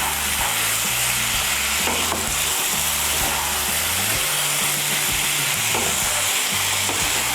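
Bottle gourd greens curry with lentil nuggets and fenugreek sizzles steadily in a pan while being stirred, with scraping strokes over continuous frying hiss; no talking.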